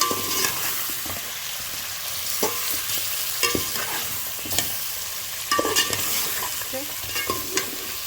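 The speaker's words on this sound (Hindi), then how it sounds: "अच्छे 2 मिनट तक इसको ऐसे भूनेंगे।" Spices fry and are stirred for chicken korma, a steady loud sizzle with repeated scraping spoon strokes against the pan throughout, no voices.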